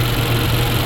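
A Subaru Ascent engine idles steadily during a diagnostic test for a P0641 or P0651 sensor reference voltage fault. It gives a close, continuous low rumble with no speech over it.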